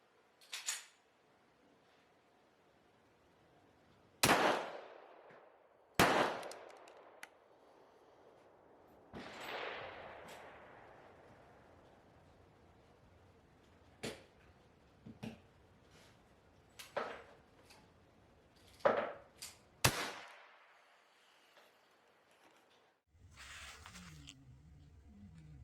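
Reximex Lyra-K .177 air rifle firing H&N Barracuda Match pellets, a series of sharp, close shot cracks spaced irregularly over a quiet background, several in quick succession near the end, followed by faint handling noise.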